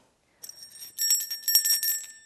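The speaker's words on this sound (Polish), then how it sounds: "Dzwonek też musi być." A small bell from a Christmas parcel jingles in quick, bright shakes after a brief silence, ringing on in several bursts, close and alone.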